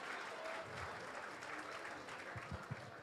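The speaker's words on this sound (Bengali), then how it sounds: "এই তোমাদের হাততালি দেওয়া হয়ে গেছে।" A live audience at a stand-up comedy show at Techno International New Town breaks into sustained, dense applause, a steady wash of many hands clapping with a few sharper claps near the end.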